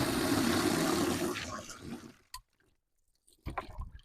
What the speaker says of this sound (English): how high the pressure can be coming out of these spigots at a campground